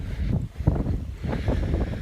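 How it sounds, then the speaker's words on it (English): Gusty wind buffets the microphone outdoors in open fields, producing low rumbling bursts that rise and fall in uneven waves over a couple of seconds. "It's a bit windy, so apologies if it's a bit windy"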